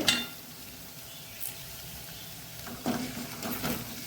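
Curry leaves and chopped coriander leaves fry in a pan for a Mangalorean cashew masala, a soft steady sizzle with a few stirring scrapes and clinks, close and low in level.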